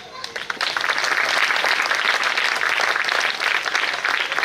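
An audience at a government school Amrit Mahotsav celebration bursts into sustained, dense applause that swells and holds loudly, with voices mixed in underneath.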